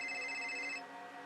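A telephone rings in an animated horror story, a steady electronic ring that holds clearly for most of a second and then cuts off, leaving a faint background.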